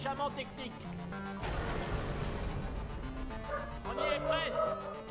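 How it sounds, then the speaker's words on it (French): A pet dog barks indoors in short yapping bursts over the sounds of a Portal 2 game, partly under someone talking nearby. "mon chien qui est complètement con aboie"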